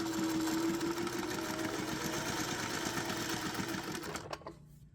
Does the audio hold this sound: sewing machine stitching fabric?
yes